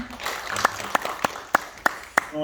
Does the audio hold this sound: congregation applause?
yes